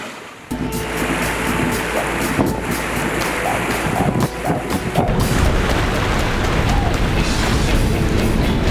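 Ocean waves and steady wind at sea aboard a sailboat, a continuous loud wash and rush of water with gusting wind buffeting the microphone, no speech.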